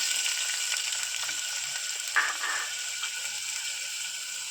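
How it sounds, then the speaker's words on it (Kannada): Finely chopped onion sizzles and fries in hot oil with mustard seeds for a restaurant-style moong dal fry, a steady close hiss with one brief stir or crackle midway. "ಈಗ ಸಣ್ಣಗೆ ಹೆಚ್ಚಿಕೊಂಡಿರುವಂಥ ಈರುಳ್ಳಿಯನ್ನು ಹಾಕಿಕೊಳ್ಳಬೇಕು"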